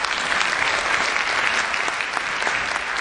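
Congress audience applauding steadily and loudly, a dense, even wash of many hands clapping from start to finish with no break.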